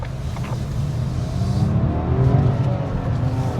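Maruti Brezza 1.0 turbo petrol with manual gearbox accelerating in fourth gear, a low steady engine drone with faint rising tones and road rumble inside the cabin, with no speech over it.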